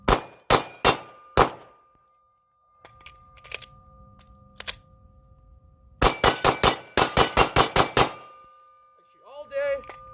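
Gunfire rings out at an outdoor shooting range, sharp shots each followed by a bright metallic clang off steel targets, first in a short string of four, then a rapid run of about ten, loud and close, with brief talk near the end.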